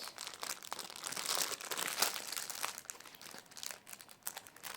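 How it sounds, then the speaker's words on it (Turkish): Close, continuous crinkling and rustling of a plastic bag, with irregular sharp crackles, fairly quiet and without talk. "Şöyle bir poşet arkadaşlar. Yanlışlıkla yırttım."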